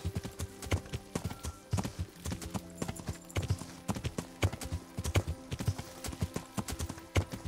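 Horse hooves clip-clop at a quick gallop in the medieval video game Kingdom Come: Deliverance, a steady rhythmic pattern of repeated thuds at moderate distance, continuing evenly from start to finish.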